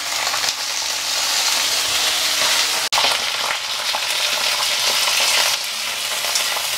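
Ingredients for a brinjal and groundnut chutney frying on low heat in a pan, a steady close sizzle with crackling pops and one sharp click midway, no talking.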